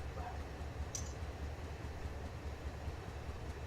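Train in the railroad simulator game Run8 V3, a steady low rumbling drone of the locomotive and rolling cars with a faint squeal, continuous and even throughout with no talking.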